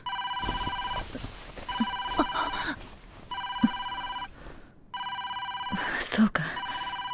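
A telephone with a direct line into the room rings in repeated bursts of electronic trilling, each about a second long with short gaps, loud and near, with faint rustling and a soft voice beneath.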